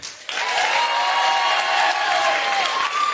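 Comedy-club crowd in Swansea at a Michael McIntyre stand-up show bursting into loud, dense applause from many hands, sustained throughout with a hint of cheering mixed in.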